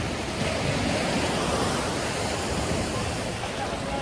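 Sea waves wash continuously on an island beach in Palawan, a steady broadband roar of surf with no distinct breaks, close and moderately loud.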